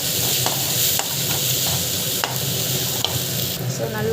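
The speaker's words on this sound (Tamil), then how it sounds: "ஸோ அதை போட்டுட்டு நல்லா வந்து வதக்கிட்டுக்கோங்க" Turmeric and coriander powder sautéing in a pan under a loud, steady sizzle, with faint regular clicks and scrapes from stirring throughout, close and without talk.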